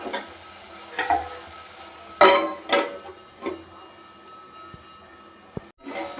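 Mutton is stir-fried (kosha) in a pan with a low background sizzle and several loud scraping, clattering strokes of a spoon against the metal, spaced out irregularly.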